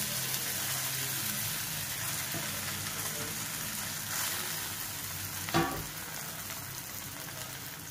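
Idli pieces frying in a pan with curry leaves and chopped green chillies give a steady, close sizzle throughout, with a single short scrape or clink near the end.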